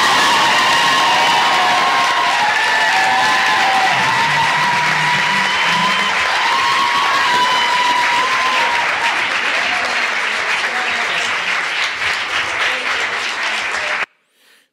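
A large crowd applauds and cheers loudly and steadily at the signing of a piece of legislation, with whoops and shouts mixed in, cutting off abruptly near the end.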